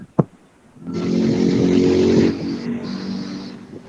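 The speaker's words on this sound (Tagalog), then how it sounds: "Maingay po yung sasakyan, mga motor." A sharp click, then a car or motorcycle roars past close by, its engine rising and fading, with street traffic noise of cars and motorcycles lingering behind.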